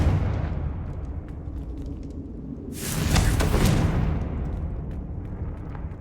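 Confringo fire spell cast in the Hogwarts Legacy video game, a low rumbling game soundscape broken by a loud, bright blast that bursts and fades over about a second, with no voices.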